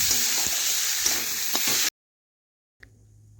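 Chopped tomato and spices fry in a pan with a loud, continuous sizzle and a few stirring scrapes, then the sound cuts to silence and a faint hum returns.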